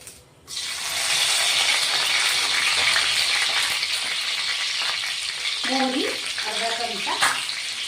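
Curry leaves rinsed under a running tap for a vegetable curry: a steady, close hiss of flowing water runs nearly throughout, with a few brief clinks and handling sounds near the end.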